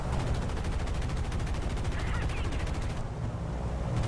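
Rapid 20mm cannon fire from an enemy fighter in the War Thunder air battle against a B-17E bomber, loud dense bursts of hammering shots layered over a constant engine drone, easing briefly before resuming.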